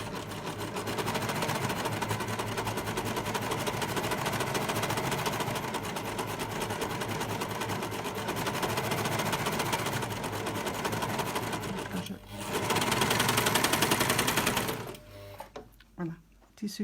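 A serger overlock sewing machine stitches and gathers fabric in a loud, steady mechanical whir that runs continuously, pauses briefly, then resumes before stopping near the end.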